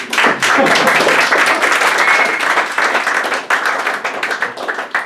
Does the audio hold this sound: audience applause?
yes